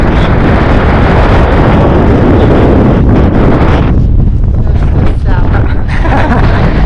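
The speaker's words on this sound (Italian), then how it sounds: "Sentite il suono del vento?" Strong wind blows across an Icelandic coast, roaring loud and close against the microphone in continuous buffeting gusts that ease slightly toward the end.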